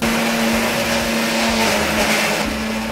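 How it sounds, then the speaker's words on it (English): A blender pulses tomatoes with a loud, steady motor whine and churning, running continuously and close up. "Put it in the blender and you have your tomatoes pulsed and ready"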